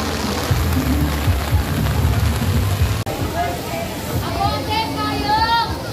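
Heavy rain pours at the Pasig River Esplanade, a dense, loud hiss of drops pattering on surfaces close by, while people talk and a vendor calls out over it.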